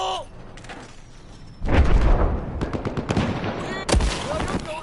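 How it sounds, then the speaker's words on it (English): A grenade explodes in the Battlefield 4 video game: two heavy, loud blasts about two seconds apart, each followed by crackling gunfire-like bursts, with a brief voice at the start. "手雷出"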